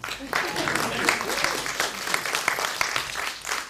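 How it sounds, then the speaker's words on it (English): A conference audience claps steadily throughout, a dense wash of applause with a voice speaking faintly over it. "All the claps, thank you."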